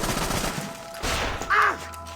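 A sniper rifle shot rings out in an Assassin's Creed cutscene, a single sharp report landing near the middle amid a loud, dense background of action sound.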